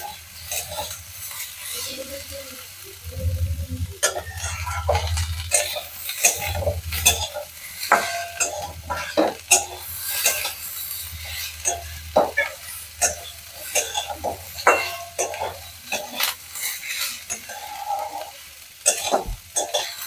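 Winter vegetables sizzle and fry in a pan while a spatula stirs and scrapes them in repeated strokes, with occasional clinks of utensil against metal, close and steady throughout.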